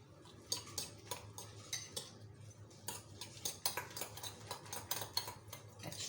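Chopped coriander, green onion and green chilli are stirred together in a bowl for a vegetable omelette, producing quiet repeated clinks and scrapes of a spoon against the dish in an irregular rhythm.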